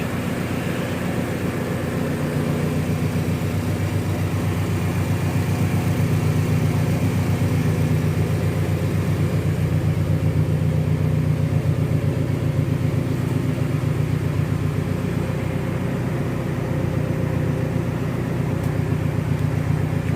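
A 1995 Honda Civic hatchback engine idles steadily and fairly loudly nearby, a continuous low rumble with a fine regular pulse and no talking.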